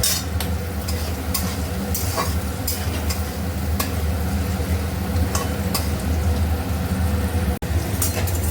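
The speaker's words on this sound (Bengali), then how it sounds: "এদিকে চলছে পটল ভাজা।" Pointed gourd frying in a home kitchen pan, a continuous loud sizzle under a low hum, with regular spatula scrapes and stirring knocks throughout.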